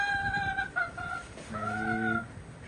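A round-head mother hen clucks close by in a series of short, tonal calls with brief pauses, and the sound stands alone with no talking.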